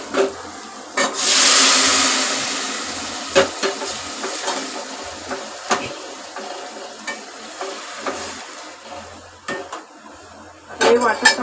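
A spoon stirs red cowpea usal with masala in a pan, giving repeated scraping knocks against the metal over a soft sizzle, with a brief hiss early on.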